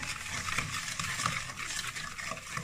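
Sugar being rubbed and beaten by hand into cake batter in a bowl, a steady scraping, stirring texture running continuously and fairly close, with no talk over it.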